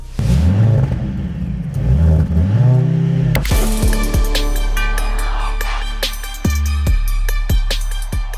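A 2024 Mercedes-AMG C 63 S E Performance 4MATIC+ with a downsized hybrid engine accelerates hard on a track, its engine climbing through revs before a series of quick upshifts with sharp pops, loud and close.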